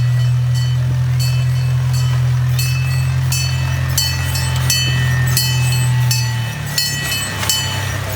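A train rumbles steadily past at close range, with a deep continuous drone and regular metallic clicks from the wheels on the rails.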